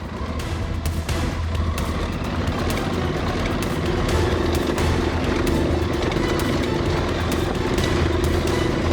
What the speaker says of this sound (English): Let's see if the big bike can do it.